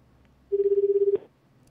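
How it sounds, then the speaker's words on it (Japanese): A ringback tone sounds as a phone call to a radio show host connects: one steady tone pulsing rapidly for about two-thirds of a second, ending with a short click, alone over quiet background. "電話つないでみたいと思います"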